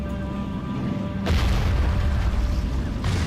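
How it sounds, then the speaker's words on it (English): Artillery booms roll through a strategy-game siege battle, a heavy low blast breaking in after a quieter stretch and rumbling on, loud and close. "it's just an artillery duel now"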